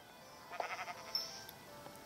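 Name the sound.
sheep bleating in Minecraft video game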